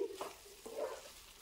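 Spiced samosa filling cooking in a pan is stirred after simmering under a lid, with a few soft scrapes and a faint sizzle, quiet and close.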